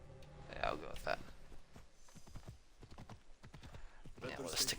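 Horse hooves clip-clop in a steady walking rhythm in a video game, close and clear, with what may be a short whinny near the start and again at the end.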